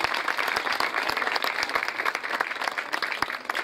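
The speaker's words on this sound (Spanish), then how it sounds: "el senador Manuel Guillermo Mora Jaramillo, un aplauso fuerte también a él" An outdoor crowd at a governor's neighbourhood public works event claps vigorously, a dense run of individual sharp claps at a brisk, uneven rhythm, with no voices over it.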